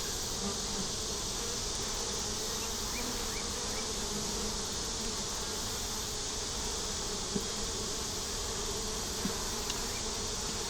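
Honey bees drone steadily around an open hive during an inspection, a dense, continuous buzzing swarm that is close and even throughout, with no talk.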